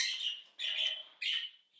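Pet parrots squawk and chirp in three short, shrill bursts, close by and fairly loud, with brief silent gaps between the calls and no talking.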